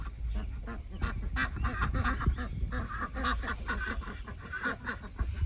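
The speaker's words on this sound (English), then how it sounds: "every night, the ducks come up to their hut" A group of ducks quacks and honks busily at their hut on a farm as they come up from the pond for the night, a steady chatter of overlapping calls throughout.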